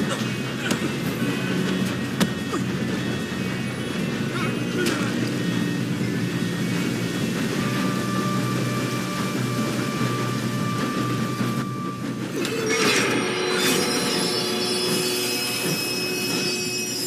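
A train rolls steadily through a Western setting in Red Dead Redemption 2, a continuous loud rumble lasting throughout, with a shift in tone near the end and scattered clanks over the top.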